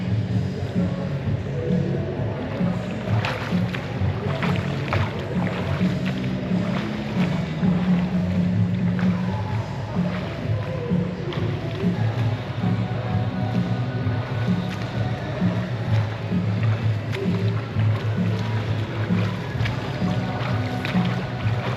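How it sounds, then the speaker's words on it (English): Freestyle swimming with a snorkel and a towed swim buoy, heard as a steady wash of splashing water and strokes, close and continuous, with wind and surf noise running underneath throughout. "now we're going to use the snorkel and just do a freestyle swim with the swim buoy"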